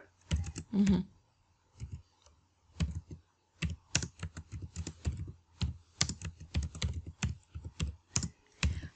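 Fingers type on a computer keyboard while entering text into PowerPoint slides, producing close, crisp key clicks in quick irregular bursts with short pauses between runs, and no talking.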